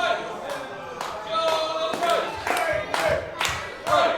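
A wrestling crowd split between two wrestlers, clapping in a steady rhythmic beat of roughly two claps per second, with chanting and cheering mixed in throughout.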